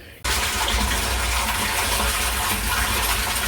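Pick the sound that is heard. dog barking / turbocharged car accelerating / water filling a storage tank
water filling a storage tank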